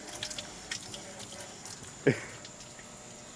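Water runs steadily into a dishwasher being filled by hand, a soft continuous splash and trickle. One brief knock stands out midway, and a person speaks briefly over it.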